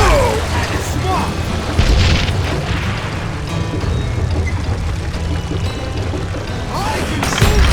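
Dynamite explosions in the video game Call of Juarez Gunslinger: heavy booms and rumbling debris with a loud burst near the start and another near the end, under a shouting voice.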